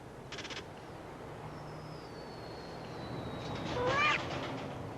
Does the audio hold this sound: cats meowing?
yes